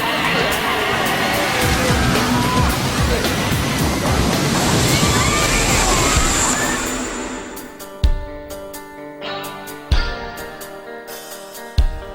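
The Perilous Plunge boat ride at a theme park splashes through water to a stop: a loud, rushing spray that fades out around eight seconds, followed by a few sharp thuds and quieter background sounds.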